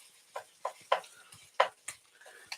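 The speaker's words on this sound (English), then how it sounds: "just being over here stirring stuff" A spoon stirring food in a pot while cooking dirty rice with sweet onion, giving a series of soft, irregular scraping clinks close by with short pauses between strokes.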